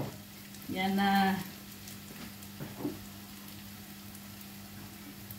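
Minced meat sizzles in a pan, with a loud hissing burst as it is stirred, then a steady quieter frying crackle continuing under a brief spoken remark.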